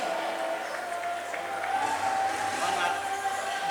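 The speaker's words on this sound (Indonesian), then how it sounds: "Berikan tepuk tangan yang meriah." Applause and crowd noise at a stage event as a guest star is welcomed, a steady wash of clapping blended with background music and murmuring voices throughout.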